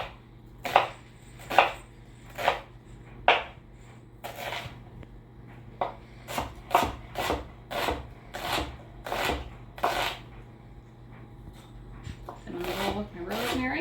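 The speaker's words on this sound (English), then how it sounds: "just get my onion chopped here" An onion chopped with a knife on a cutting board in a home kitchen, giving a string of crisp, rhythmic thuds and slicing crunches, some slower and some in quick bursts, close and clear, while a person talks now and then.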